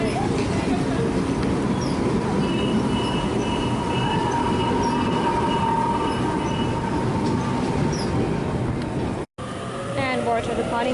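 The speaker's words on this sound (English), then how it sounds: "Waratah departing for a 5 trains town service." A Sydney Waratah electric train departs Erskineville station, a steady loud rumble of wheels and motors with high tonal whine and squeals over the rails, continuing for the whole stretch before a brief cut.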